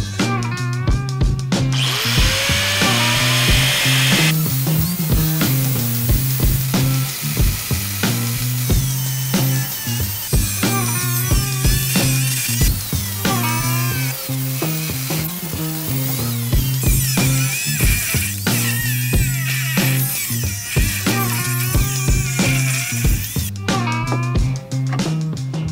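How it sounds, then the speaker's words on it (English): Power grinder working steel on a Ford F550 dump truck bed, running loud and steady for most of the stretch with repeated bites and pauses in pitch as the tool is pressed and eased. "I gotta grind this down here."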